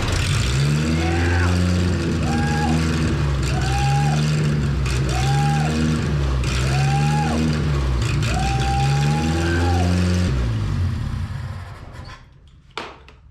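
Old U-Haul box truck engine started on 12 volts and running, a loud continuous idle with rhythmic rising and falling revs for about ten seconds before it fades and drops away.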